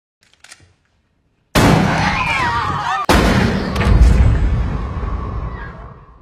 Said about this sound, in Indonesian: lalu menembak Ember dan juga Blondie di depan Yanti dan juga Gorski